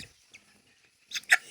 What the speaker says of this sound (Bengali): তো 6 পিস মুরগি নিলাম, 5 পিস মুরগি, 1 পিস মোরগ